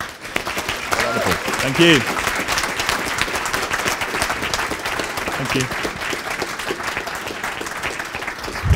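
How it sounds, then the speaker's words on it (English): Loud audience applause fills a keynote talk at a conference and runs steadily throughout, with a speaker briefly talking over the clapping. "So, a big round of applause, please."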